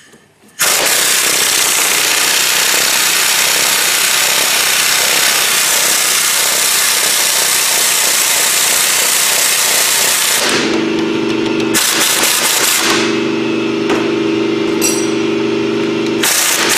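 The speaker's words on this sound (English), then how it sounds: "Pull the bolt out of the lower ball joint now." An impact wrench or air tool hammers loudly and continuously on the lower ball joint bolt of a Chevrolet Sonic during front suspension work. The rattle runs for about ten seconds, then cuts out and returns in shorter bursts.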